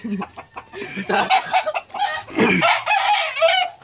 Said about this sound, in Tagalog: Kita nyo naman yung mga manok na yan.